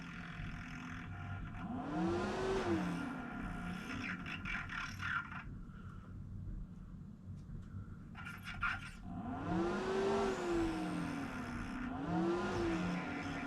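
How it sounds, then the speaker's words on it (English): A fan on a speed controller in a camper van electrical box gives a faint whir, then rising and falling whining sweeps with a scraping, grinding edge as its speed is turned down, heard up close. "if I turn it down, I get that like metal grinding on metal sound."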